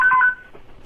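A special hotline telephone ring, likened to a red emergency phone, sounds as a short burst of bright electronic tones that fades after a fraction of a second into quiet room noise.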